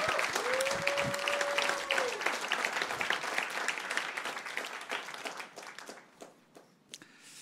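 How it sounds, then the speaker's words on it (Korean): Applause from a church congregation at a Wednesday worship service, a sustained roomful of clapping that swells and then thins out over several seconds, with a brief sustained tone near the start. "우리 함께 박수로 모시겠습니다."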